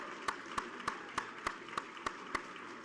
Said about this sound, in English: Would all elected officials and their staffers please stand and let us thank you with a round of applause?